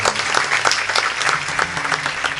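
A kirtan audience clapping for an accompanying musician, a loud, dense burst of many hands close by, sustained evenly without a break.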